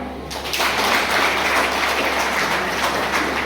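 A Baptist church congregation applauds at a pastor's installation service, a sustained roomy wash of many hands clapping that swells in after a brief moment and holds steady.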